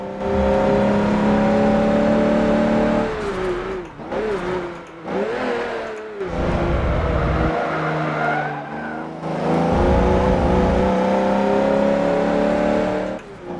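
An Audi Q7 with a V12 racing in Forza Motorsport 7, its engine droning loudly and steadily through drifts, with tire squeal and pitch dips at gear shifts and brief lifts off the throttle.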